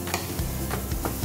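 Garlic and onion sautéing in a pan, a steady close sizzle with rhythmic stirring scrapes, no talk.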